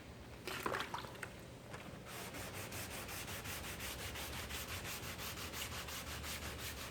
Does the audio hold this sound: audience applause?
no